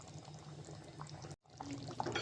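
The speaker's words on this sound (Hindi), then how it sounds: "ये अब मैं 2 कप जो है वो भर के पानी इसमें ऐड कर दूंगी।" Water pours steadily into a cooking pot of aloo chicken curry, a continuous close splashing stream with a brief break before it resumes, no talking.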